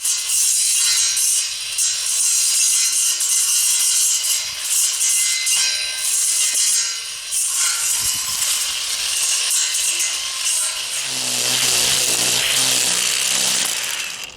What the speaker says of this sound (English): Got brush that's too heavy for the string trimmer.